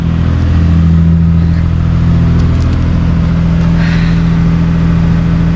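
A beaten-up Nissan R32 GTR idles with a deep, steady engine rumble heard close and loud, the motor holding an even throb with slight swells in revs throughout.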